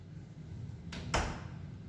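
A self-closing door swings shut on its own, giving a brief whoosh followed by a soft thud as it meets the frame, against a quiet room hum.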